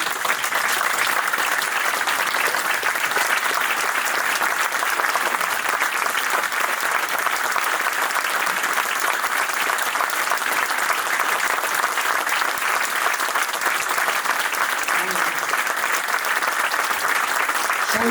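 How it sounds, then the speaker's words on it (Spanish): Sustained audience applause for war veterans at a book presentation in a Malvinas museum, steady and dense throughout with no pauses, a large room clapping warmly. "Aplausos."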